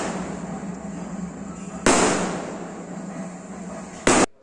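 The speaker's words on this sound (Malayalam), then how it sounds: "അങ്ങനെ രാത്രി പടക്കമൊക്കെ പൊട്ടിക്കുകയാണ്" Two sharp firecracker bangs burst out a couple of seconds apart at night over a steady background hiss, the second one brief and abrupt.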